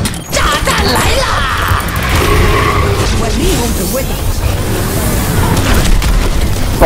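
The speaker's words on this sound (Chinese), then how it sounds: "炸弹来啦！" A bomb blast in the Overwatch video game, a loud crashing explosion that bursts at the start and rumbles on as heavy noise, with an excited voice shouting over the chaos.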